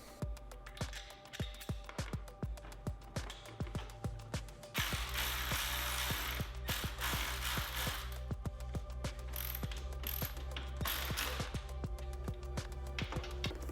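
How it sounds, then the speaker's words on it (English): Steady ratchet clicking as acorn nuts are tightened on a 2014–2019 Harley-Davidson Street Glide fairing, close and crisp in quick regular strokes, over a constant louder hiss in the second half. "Just make sure that the plug is not in a bind, nothing's getting pinched before you tighten these acorn nuts down"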